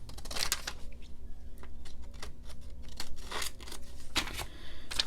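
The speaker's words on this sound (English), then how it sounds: "I can cut straighter with a longer scissor" Scissors snipping paper while cutting pieces for a nature journal craft, with a few crisp, close cuts and a soft rustle of paper in between.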